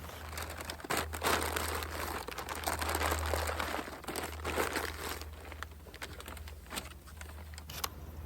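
Empty paper leaf bags being folded by hand, steady crinkling and rustling with several sharper crackles, close and fairly loud, over a low background hum.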